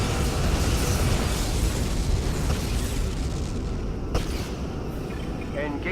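A Romulan vessel explodes in the Star Trek Legacy game, a sustained, dense rumbling blast that stays loud for several seconds with a sharp crack partway through. Voices appear to speak over the noise.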